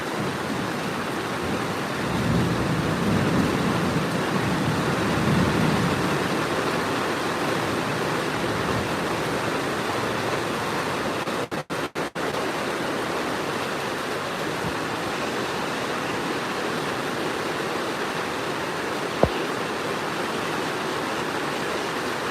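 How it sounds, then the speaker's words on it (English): Steady, loud rain hiss filling the whole scene, broadband and continuous like a heavy downpour, with a brief dropout and a single sharp knock near the end. "There's rain."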